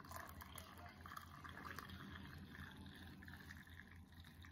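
Hot water poured steadily into a container while a Filipino longanisa meal is prepared, a continuous close, gurgling fill that lasts the whole stretch without pause.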